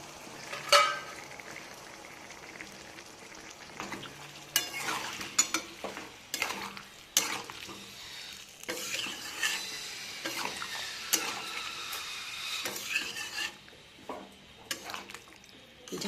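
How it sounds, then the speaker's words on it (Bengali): A spatula or spoon stirs Bengali bhetki fish curry in a pan after a little water is added. Scraping and stirring strokes come in bursts over a soft sizzle, close and moderately quiet, with clinks of utensil against metal. "সামান্য পরিমাণে জল দিয়ে এবার নাড়াচাড়া করে ঢাকা দেবো।"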